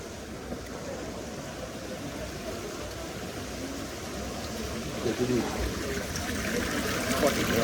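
Drinking water runs steadily from a public fountain in central Rome, a constant close splashing and trickling stream with faint voices underneath.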